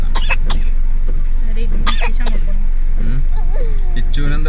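A small child coughs in short bursts near the start and again about halfway through, inside a vehicle on a rainy day. A low engine hum runs underneath and adults talk.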